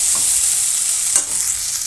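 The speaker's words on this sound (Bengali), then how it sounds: "এখন আমি দিয়ে দেবো একটু ভিনিগার আর দিয়ে দেবো এই রেড চিলি সসটা, দিয়ে সমস্তটা একসাথে মিশিয়ে নেব।" Vinegar and red chili sauce stirred into a hot pan with a steady hiss of frying throughout and a couple of brief scraping strokes, close and fairly loud, no voices.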